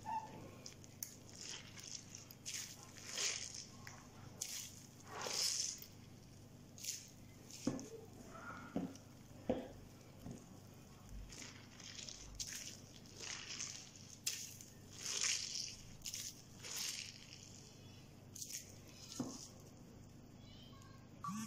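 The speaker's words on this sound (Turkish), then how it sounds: "Rendelediğimiz soğan ve patatesin suyunu sıkıyoruz." Grated onion and potato are squeezed by hand to press out their juice, giving soft, wet squishing and crunching bursts that come in repeated irregular squeezes, quiet and close, with no talking.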